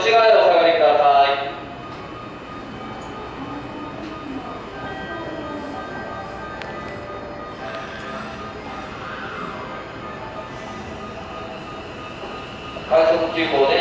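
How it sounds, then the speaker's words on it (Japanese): A Hanshin train moves at Amagasaki station during the evening rush, a steady rolling rumble with faint squeals, beginning and ending with loud station announcement voices over it. "電車は止まってもう一度動きます。"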